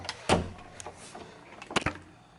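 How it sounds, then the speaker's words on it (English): A door pushed shut in a restaurant, heard as a couple of short knocks and thuds close by, the last pair landing in quick succession near the end. "Now push the door hard."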